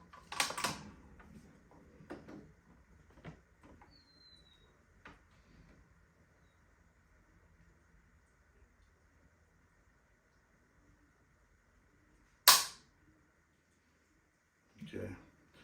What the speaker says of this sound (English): So now I'm gonna dry fire.